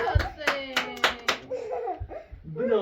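Several sharp hand claps ring out in quick succession to cheer for a boy named Hossein at a nomadic family gathering, followed by laughter and excited voices.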